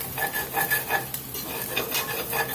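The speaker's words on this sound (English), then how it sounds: "Just let it keep browning, keep scraping till all that blackening seasoning" A pot of hamburger meat browns with blackening seasoning while a spoon keeps scraping the bottom, making steady rhythmic scrapes and stirs over a low sizzle, close by.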